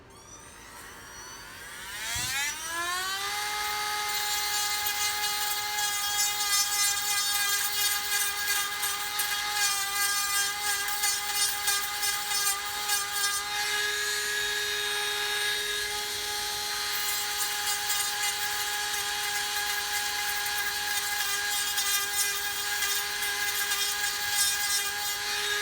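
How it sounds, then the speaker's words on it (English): A Dremel rotary tool fitted with a small grinder bit spins up with a rising whine, then holds a steady high-pitched buzz for over twenty seconds while shaving plastic from a 1/48 scale Lunar Module model foot pad, close up and alone. "I'm using my Dremel tool with a little bit of a grinder bit on it, and just taking out some plastic a little bit at a time"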